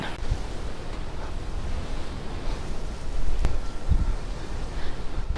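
Strong wind blows steadily around a building in Lukang, Taiwan, making a continuous loud roar of broadband rushing noise with gusty swells and microphone buffeting, and no voices.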